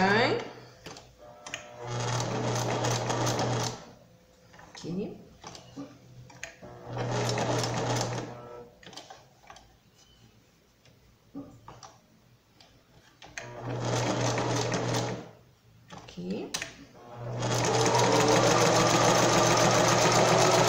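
A domestic sewing machine stitching a pet bandana, running in several short bursts of rapid whirring stitches separated by pauses, close and loud, with someone talking between runs.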